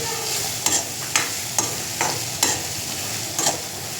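Mushrooms sautéing with chilli powder and spices in a pan, a steady close sizzle with several sharp spatula scrapes and stirs spaced about half a second apart, no talking.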